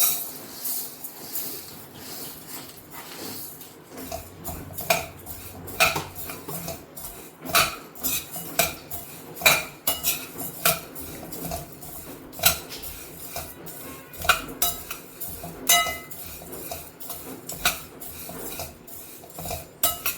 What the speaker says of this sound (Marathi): त्यामध्येच हे भिजवून वाळवलेली डाळ आहे ती अर्धी अर्धी करून आपल्याला भाजून घ्यायची आहे